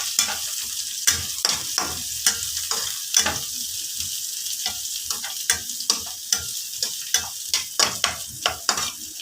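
Onions browning in a pan for pancit toppings: a constant high sizzle broken by frequent sharp clicks and scrapes of a utensil stirring, close and fairly loud.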